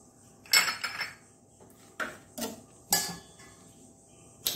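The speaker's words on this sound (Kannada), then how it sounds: "ಈ ಬೆಂಡೆಯನ್ನು ಕಟ್ ಮಾಡಿಕೊಳ್ಳೋಣ" Knife cutting through fresh okra (ladies finger) on a board, several separate crisp chopping taps at an uneven pace, close and fairly quiet, with a faint insect-like hum behind.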